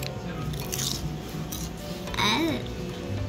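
Someone bites and chews a very crunchy mushroom at a food spot in Nozawa Onsen, Japan, with close crisp crunches and a brief voiced sound among background chatter.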